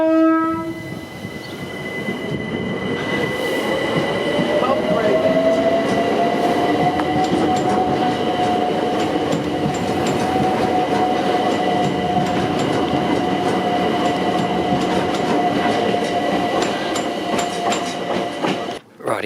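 A special train passes a level crossing on Bollow Lane in Acton, London, opening with horn blasts, then a loud, sustained rumble and rising wheel squeal as the carriages roll by, running continuously without speech.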